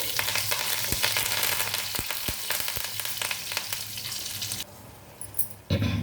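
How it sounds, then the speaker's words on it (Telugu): Spices and chana dal sizzle and crackle in hot oil with curry leaves, with a few sharp pops early on, then the frying quiets down near the end. "ఇవన్నీ వేగిన తర్వాత కరివేపాకు వేసుకోవాలండి"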